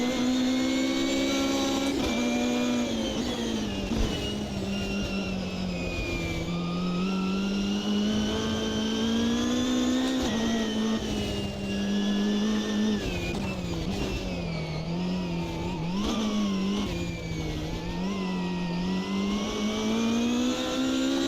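A loud race car in the Automobilista 2 racing game, its engine droning close and continuous as it repeatedly rises and falls with gear changes and corners, over about twenty seconds with no voices.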